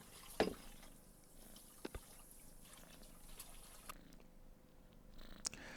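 A cat purrs in a Sherlockian adventure game, a very quiet, low continuous rumble with a few faint clicks and taps scattered over it.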